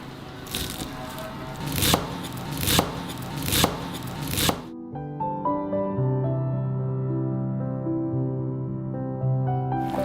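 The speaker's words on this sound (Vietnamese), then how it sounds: "Cắt rau thơm ra to to như thế này để rau không bị đen và nhũng lúc trộn gỏi." A knife chops fresh herbs into large pieces for a Vietnamese salad: five sharp, evenly spaced chops ring out close and loud, then give way to music.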